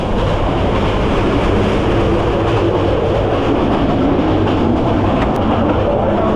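Inside the Sonar Bangla Express, a luxury non-stop intercity train, a steady, loud rumble of the running carriage fills the air with continuous low clatter and broadband rail noise, no voices.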